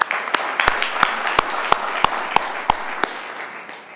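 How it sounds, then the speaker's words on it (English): Sparse applause from an audience at a forum event in Washington, D.C.: about ten distinct, evenly spaced claps ring out over a soft hall murmur, fairly near and moderate in level. "give him another round of applause"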